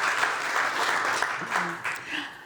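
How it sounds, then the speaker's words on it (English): An audience claps for a panelist being welcomed at a climate tech and green startup panel, a short burst of dense applause with a voice talking over it. "Applause for him. You're allowed to clap."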